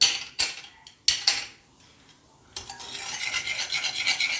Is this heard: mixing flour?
yes